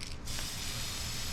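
A spray paint can hisses in a steady continuous burst onto an RC car body for hydro dipping, close and loud, with a faint mechanical rattle at the start.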